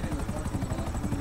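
A helicopter's rotor chops steadily in GTA Online during a casino heist setup, a rhythmic rapid thumping heard close and continuous throughout.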